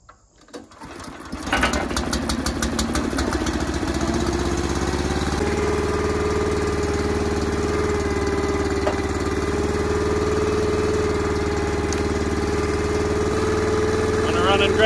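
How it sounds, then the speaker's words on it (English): A Honda small engine on a hydraulic log splitter starting up and settling into a loud, steady running drone, close by and continuous after a brief rise at the start. "Let's get the Honda fired up and see what happens."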